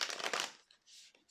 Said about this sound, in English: I've been shuffling the wrong deck, and I'm going to do it once again